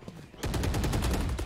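Rapid automatic gunfire in Valorant breaks in after a brief quiet, a fast, evenly spaced burst of sharp shots, close and fairly loud, with no speech.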